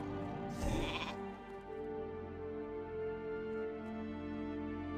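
A single sheep bleat from a polymorph spell in World of Warcraft Classic rings out clearly near the start, set against a steady, tonal musical background that continues throughout.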